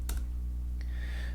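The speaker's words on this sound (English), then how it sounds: "If you type department, this should come up." A few quiet keystrokes on a computer keyboard, short clicks spaced unevenly, close by in a calm indoor setting.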